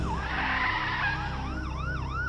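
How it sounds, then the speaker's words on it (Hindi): A police siren wails in repeated rising and falling sweeps over engine rumble, growing clearer as it comes closer. "पीछे से पुलिस की गाड़ी सायरन बजाते हुए आती है"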